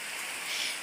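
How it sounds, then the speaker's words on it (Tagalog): Heavy typhoon rain hisses in a dense, steady wash, a constant broadband roar with no distinct drops standing out and no voices. "Kusog to nga ulan ngayon guys kasi bagyo to."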